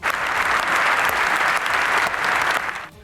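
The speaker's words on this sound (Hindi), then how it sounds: "ज़ेलेंस्की के सम्मान में खड़े हुए सांसदों ने देर तक तालियां बजाई।" Sustained standing applause from members of the British Parliament for Zelenskyy, dense and steady for about three seconds, then cutting off abruptly.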